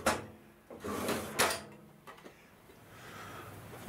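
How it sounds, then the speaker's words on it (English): A wooden drawer in a workshop tool storage rack slides and shuts, giving a short scraping slide and a couple of clunks and taps, close and moderately loud with no talking. "The drawer still shuts"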